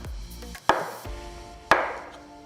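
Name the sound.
knife chopping banana into pieces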